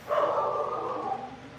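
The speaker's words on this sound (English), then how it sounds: "You can probably hear my dogs barking in the background" A single drawn-out dog vocalisation, a whining howl-like bark from one of several pet dogs, rings out steadily for over a second at moderate volume in a room.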